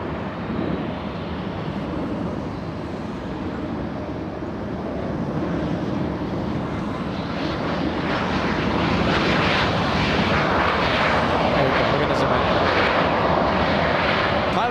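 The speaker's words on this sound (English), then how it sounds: "Say hello to the pilots of that 737 flying to Minneapolis." Boeing 737 airliner at LAX airport, a steady loud jet engine roar that swells over the clip as the plane passes close, with some wind noise and no talking.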